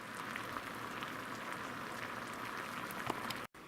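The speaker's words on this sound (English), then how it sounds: "And here it is, boiling." A continuous soft bubbling and popping of sweet and sour sauce simmering in a pot on the stove, steady and close, with no talking.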